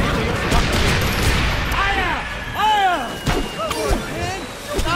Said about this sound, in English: Fire all the cannons!